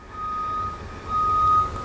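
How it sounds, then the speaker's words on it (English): A truck's reversing alarm beeps outside a window in New York, two long steady tones heard at a distance over a low street rumble. "Try to ignore that loud beeping sound that I'm ignoring outside of my window"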